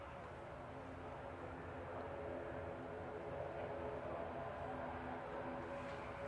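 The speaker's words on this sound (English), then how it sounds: "3 or 4 planes taxiing out, but the only one you can hear is the prop" A propeller aircraft taxiing at Manchester Airport, a steady distant droning hum with a constant low rumble, faint and unchanging throughout.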